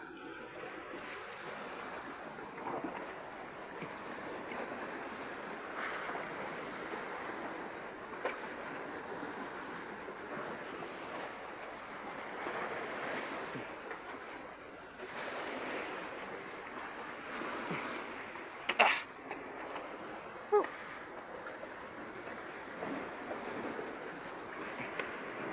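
Sea waves surge and wash in steadily, with a gusty wind roaring across the microphone and a few louder splashes near the end; no talking.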